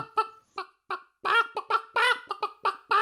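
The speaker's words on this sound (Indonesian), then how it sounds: "ayam kesayangannya itu berkotek sangat keras" A hen that has just laid an egg clucks loudly and close by, a few spaced clucks building into a rapid, insistent run of squawking calls.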